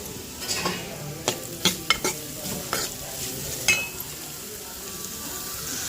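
Beetroot pieces frying with salt and turmeric sizzle softly and steadily, while a spoon scrapes and clinks against the pan in irregular bursts, close by and with no speech.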